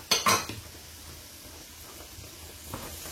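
Bell pepper tipped into a pan during home cooking, a couple of sharp clatters of dishes and utensils up front, then a quiet sizzle with a faint scrape near the end.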